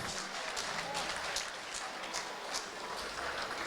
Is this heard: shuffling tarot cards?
no